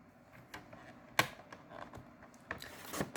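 A paper strip is cut at the 1 1/4 inch mark while making a paper frame-and-flower craft: a few quiet, sharp snips and light paper rustles against a hushed background, no talking.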